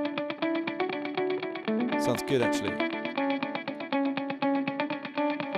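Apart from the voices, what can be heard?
Valhalla Supermassive dotted eighth orbits preset, Hydra mode echoes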